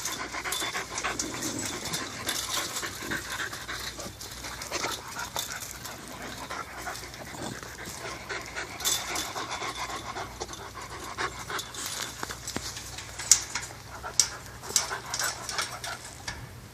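Four-month-old puppies whimper and pant close by in a steady, busy stream of small breathy sounds and soft whines, with occasional sharper yips toward the end.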